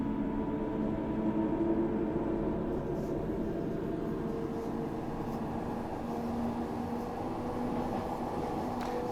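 A Glasgow Subway train in Train Simulator Classic rolls along with a steady, loud rumble and a low motor hum, constant for the whole stretch with faint clicks of the rails.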